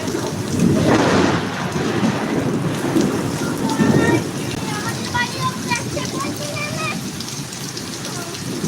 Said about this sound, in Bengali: তোমরা দেখতেই পাচ্ছ কীরকমভাবে বৃষ্টি হচ্ছে